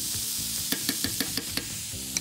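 Mushrooms and onions fry in a pan with a steady close sizzle, broken by a string of sharp clicks and scrapes from stirring, with no voices.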